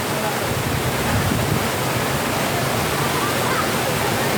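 Cold river water rushing out of an old Spanish-built tunnel in a dense, steady roar, loud and close, like a strong flow pouring out without pause.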